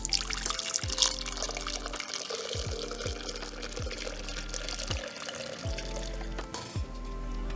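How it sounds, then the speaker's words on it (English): Brewed green tea pours steadily through a strainer into a jug, a continuous splashing trickle with repeated low gurgles and glugs, close and moderately loud, with no talking. "Using your strainer, just pour the tea, throw it into another jug."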